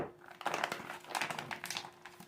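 Mylar storage bags crinkle and rustle while being filled with rice, a steady run of close, papery crackles with brief bursts and small shifts, no voices over it.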